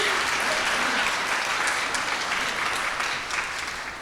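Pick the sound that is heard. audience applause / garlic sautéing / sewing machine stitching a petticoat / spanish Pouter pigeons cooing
audience applause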